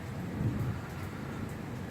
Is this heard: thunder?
yes